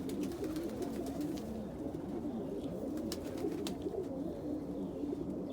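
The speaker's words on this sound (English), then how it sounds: "This is one of my older breeding pairs of dominant opals." Dominant opal pigeons, an older breeding pair, coo steadily in a low, continuous murmur, with faint clicks and rustles from the loft around them and no talking.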